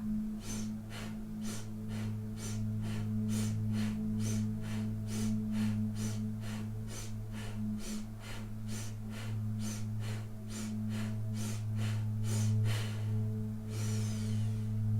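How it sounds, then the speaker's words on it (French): Bhastrika, a rapid forceful breathing exercise, runs as a steady train of about two dozen sharp, even nasal breaths, close and loud over a constant low hum, ending in a longer rushing breath. "Nous allons pratiquer 12 fois de Bhastrika."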